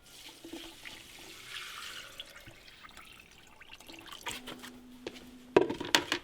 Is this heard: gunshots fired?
no